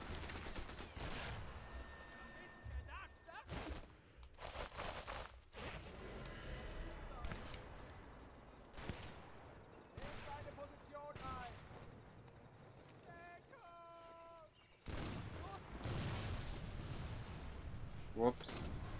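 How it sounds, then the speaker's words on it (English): Enemy gunfire in the Sniper Elite 4 video game, with repeated loud shots and bursts crackling through the whole stretch amid game effects and a voice talking over it. "I think they're all shooting at me, to be fair."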